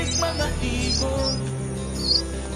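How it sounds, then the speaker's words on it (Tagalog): Small birds chirp and tweet in short, high calls scattered over a sung Filipino song with steady instrumental accompaniment, the chirps fairly clear but sitting beneath the music. "Pagkagising mo sa umaga ay maririnig mga ibon"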